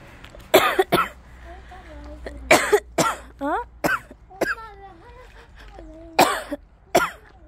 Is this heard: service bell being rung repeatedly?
no